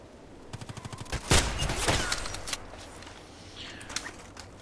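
Rapid gunfire from a shooter video game: a quick burst of clipped shots, then a couple of heavier booming blasts with short echoing tails, followed by scattered faint shots, all fairly close and loud.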